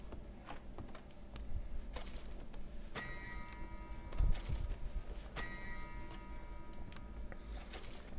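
Horse hooves clip-clop at a steady walking rhythm in the video game Red Dead Redemption 2, moderately close, with other game ambience around them and no talking.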